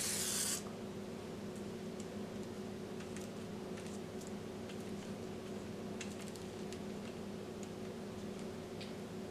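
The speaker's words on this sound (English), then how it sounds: "I am going to lightly spray the freshly made sorullitos with olive oil on both sides." A spray bottle filled with olive oil gives one short, loud spritz over freshly made sorullitos, followed by a quiet room hum with faint ticks.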